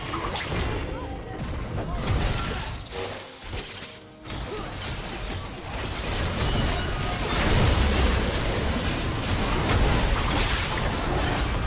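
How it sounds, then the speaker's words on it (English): A dense, loud crash of destruction as a turret is destroyed in League of Legends, with layered combat effects and a continuous game soundscape throughout. "Red team's turret has been destroyed."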